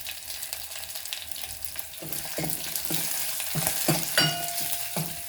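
Garlic and green chillies frying in oil with mustard seeds, a soft, steady sizzle that grows a little busier partway through, with faint stirring clicks and no voices.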